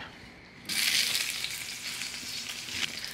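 Two big white onions, sliced a quarter inch thick, hit hot oil in a skillet and break into a loud, steady sizzle that stays up close and continuous with no talking.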